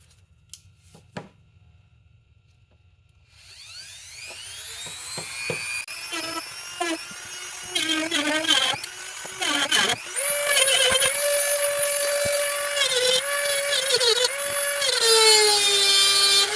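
Power grinder cutting away the steering column shaft of a 1982–92 third-gen F-body, spinning up after a quiet start and whining steadily with pitch dips as it bites into the metal, close and loud.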